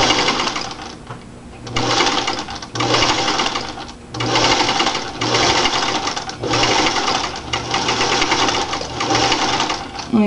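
A sewing machine stitches a fabric grocery bag holder, running loud and close in repeated bursts of a second or two with brief pauses between them, without talk.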